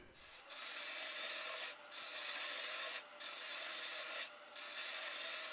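Woodturning tool trimming the rim of an oak drinks tray on a lathe, a steady bright rasping hiss in four long passes separated by brief pauses, close and fairly quiet, with no voices.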